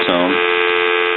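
A steady, continuous dial tone on a regular telephone line, heard through a repaired telephone, hums without a break, loud and close throughout.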